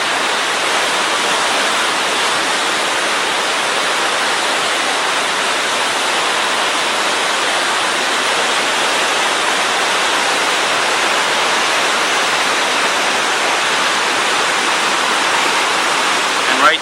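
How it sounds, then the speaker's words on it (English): Rapids above the Upper Falls in Yellowstone: a steady, loud, broadband rush of churning whitewater, constant throughout with no pauses, heard close with no voices over it. "These are the rapids above the upper falls."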